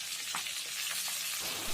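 Fish heads and fried vegetables crackle and sizzle in a pan as they are stirred, with a constant hiss of hot oil and a few soft scraping strokes, close and steady.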